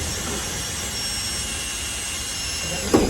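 Power drill boring through a Peugeot J9 van's box section and hinge, a continuous high whine with a brief louder knock near the end.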